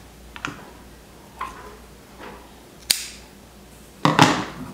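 Scissors snip jute twine tied around a mason jar fall centerpiece, a few sharp, close cuts spaced out over several seconds, the last one louder and rougher.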